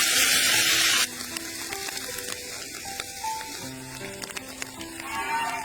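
Meat stir-fried in a wok with wormwood leaves, scrambled egg, salt, Sichuan pepper powder and red chilli, a loud hiss at first, then quieter crackling with rapid scraping and clanking of a spatula against the metal.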